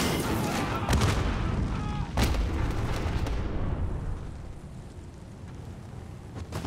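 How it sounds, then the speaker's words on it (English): A grenade explodes in Call of Duty: Modern Warfare, a heavy rumbling blast with sharp cracks of gunfire around it, loud and close, then fading into a lower rumble. "Should I just throw a grenade?"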